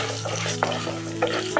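Chana dal, urad dal, cumin and dried chili fry in hot oil with a busy, close sizzle, broken by a couple of quick stirring scrapes in a brief burst.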